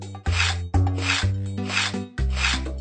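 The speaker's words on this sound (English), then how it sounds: "Move your mouse up and down to grate the cheese." Cheese being grated in a Dora the Explorer cartoon cooking game, four quick rasping strokes in an even rhythm, close and clear, with a low tonal game sound beneath.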